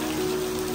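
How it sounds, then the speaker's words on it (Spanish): Rain falls outdoors on a professional film shoot, a steady, even wash of patter that holds at one level through the short stretch with no voices. "¡Nos cayó la lluvia!"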